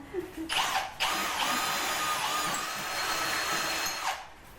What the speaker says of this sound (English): So just drill the hole through your wood.